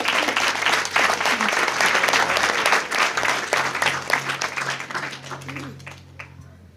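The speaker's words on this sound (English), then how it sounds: "Please give them another round of applause." Sustained audience applause fills a large hall at a Region 7 birthday celebration, dense clapping holding steady before thinning and fading toward the end, with a low murmur of voices beneath.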